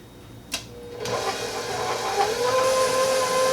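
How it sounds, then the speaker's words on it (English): An electric stand mixer whirs steadily while beating thick chocolate keto cake batter, a continuous motor hum with a whining tone that rises slightly in pitch, preceded by a short clatter as it starts. "turn your mixer back on to 2 or 4 and let this go ahead and mix until it's all the way incorporated"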